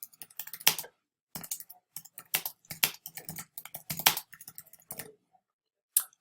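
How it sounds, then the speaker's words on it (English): Computer keyboard typing in quick bursts of clicky keystrokes with short pauses between, ending in a single isolated keypress, close and clear with no talking. "So I'm going to type in my subject and hit search."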